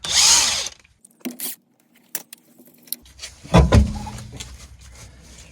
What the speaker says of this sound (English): Removing the wheel.